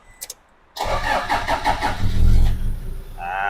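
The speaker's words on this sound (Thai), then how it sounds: "สตาร์ทรถเรียบร้อยนะครับผม" A 2013 Toyota Vigo Champ 2.5 E automatic pickup is cranked after a couple of faint clicks, the engine catching quickly with a short rev before settling into a steady, close idle.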